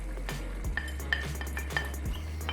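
A spoon stirs spinach, eggplant and rice with freshly added parsley and scallion in a pot, with a few soft scrapes and light clinks against the metal over a low steady hum.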